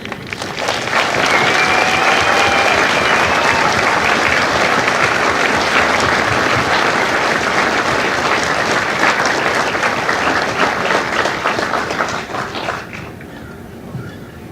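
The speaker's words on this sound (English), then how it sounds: "please give a very special round of applause to the family members of the servicemen and women" Loud, sustained applause from the crowd at a Marine Corps Recruit Depot San Diego graduation ceremony rolls on evenly for about twelve seconds, with a few whistles early on, then tapers off at the end.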